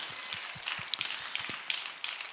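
A church congregation claps together in a steady, fairly quick rhythm of sharp hand claps that carries on throughout, fairly close and with little else over it.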